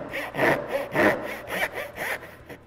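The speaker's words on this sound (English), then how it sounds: "once I have a good trough, I'm going to angle the blade at 14. And then I'll start leaning in to my cut." A hand saw cutting dovetails in wood, with the blade angled as it leans into the cut: steady, close back-and-forth rasping strokes, about two per second, with no talk.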